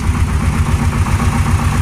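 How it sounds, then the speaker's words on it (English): A twin-turbo Mopar engine idles steadily on its EFI system, a loud, close, even low rumble with a regular pulsing beat and no voices. "He's just sitting there running, idling by itself off the EFI system."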